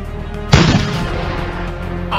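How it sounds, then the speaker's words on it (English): A toy pirate ship cannon goes off once with a loud booming blast, then a long rumbling decay fades under steady background noise. "Fire the cannon!"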